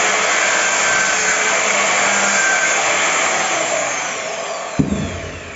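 A PVC pipe being cut with a power tool in a home: a loud, steady, high whining drone runs for about five seconds, then stops abruptly, leaving a brief clunk.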